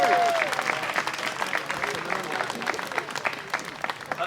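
An indoor audience at a 40th anniversary celebration for Jeremy Corbyn MP applauds, a crackling spread of many hands that starts strong and gradually thins and softens, with a voice briefly audible at the start.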